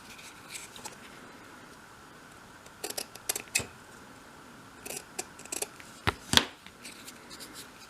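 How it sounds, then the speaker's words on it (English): Scissors snip through the fabric-covered flaps of a storage box, short crisp cuts in two clusters separated by quiet, fairly close and moderately soft. "cut a shallow angle at each edge of the front and back flaps"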